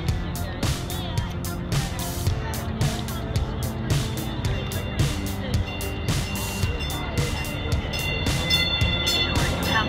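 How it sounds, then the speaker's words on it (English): A light rail train rolls in with rhythmic clacks of wheels over track joints and a low rumble, while faint voices murmur nearby. "Okay, a train coming. Light rail."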